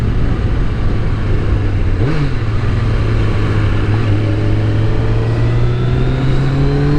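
Loud, close engine note of a Kawasaki ZZR 1100 motorcycle, running smoothly after a hydro-lock repair, with a brief blip of the throttle followed by a steadily rising rev as the bike accelerates.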